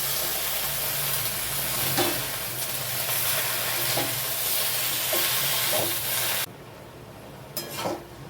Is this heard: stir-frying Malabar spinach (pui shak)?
yes